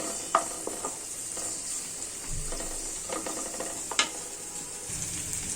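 Chopped onion and garlic fry in oil for a tempering for a dal with jute leaves, giving a steady, close sizzle with occasional clicks and scrapes of stirring.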